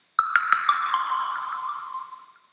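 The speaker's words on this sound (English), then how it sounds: "we can hear the reverb tails getting that nice crackle of the distortion overdrive coming through" A bright ringing tone repeats in several quick hits, each leaving a long reverb tail crackling with overdrive distortion, gritty as it slowly fades to silence.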